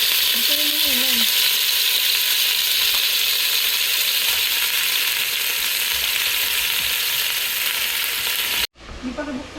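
Quesabirria cooks on a hot surface, with a steady, bright sizzle and bubbling that runs loud and even for most of the stretch before cutting off abruptly near the end.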